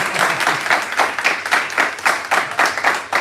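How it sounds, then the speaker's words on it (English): An audience at a company townhall breaks into applause once more, many hands clapping in a loud, sustained wash with a loose rhythmic pulse and no speech on top. "You want to clap one more time?"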